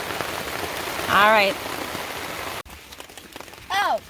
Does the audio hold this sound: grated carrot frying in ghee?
no